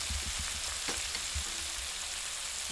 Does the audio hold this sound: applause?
no